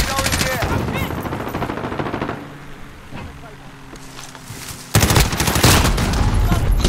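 Video-game gunfire: loud rapid automatic bursts, easing to quieter distant shots in the middle, then a sudden, dense, close burst of heavy firing.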